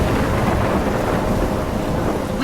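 Thunderstorm with heavy rain in the video game Life Is Strange, a steady dense roar of rainfall with deep thunder rumbling throughout, loud and close with no voices.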